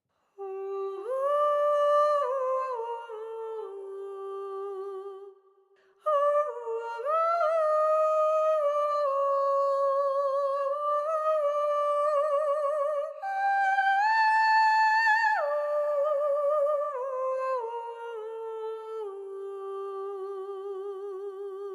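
Ethera Atlantis virtual vocal instrument sings a phrase in fast legato mode, a clear sustained voice gliding smoothly between pitches with gentle vibrato, alone and up close, broken by one short pause partway through.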